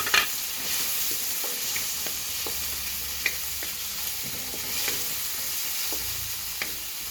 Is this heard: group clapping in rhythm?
no